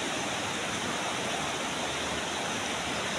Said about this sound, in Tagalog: bumabaha yung ilog mga paps no